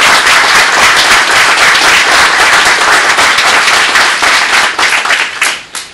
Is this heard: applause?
yes